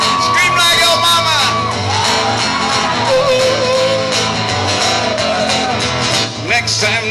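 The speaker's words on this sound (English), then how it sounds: "Scream that way. Scream that way." A live concert crowd shouting and whooping loudly throughout, a dense roar of voices mixed with music from the stage.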